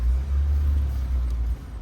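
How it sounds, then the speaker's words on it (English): Steady low engine rumble from inside a manual car cruising along, a constant droning hum with no voices over it. "just gonna go for a little drive,"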